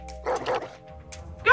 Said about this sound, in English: Go, doggy, go!